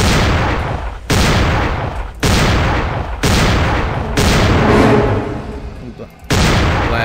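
Shotgun blasts in a Halloween horror video game based on Michael Myers: about six loud, booming shots spaced roughly a second apart, each with a long reverberant tail.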